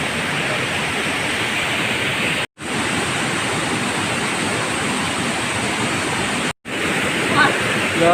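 A waterfall at Leuwi Ceupet roars in a continuous, loud broadband rush close by, with two brief silent cuts and a faint voice near the end.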